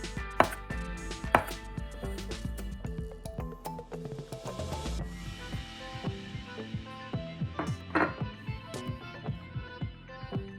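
A knife slices green and black olives into rings on a cutting board, giving a long run of steady, close, crisp chopping taps with an even rhythm and no talking.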